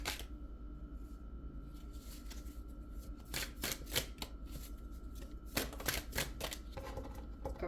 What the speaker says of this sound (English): Let me just give these a good shuffle to get them all